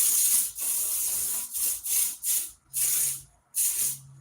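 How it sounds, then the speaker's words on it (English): A series of aerosol spray bursts into a box, close and loud, with short pauses between each hiss; some bursts are brief, others longer. "Let me spray my box because it smells like food."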